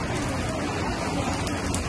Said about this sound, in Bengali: এখন বৃষ্টি হচ্ছে এখানে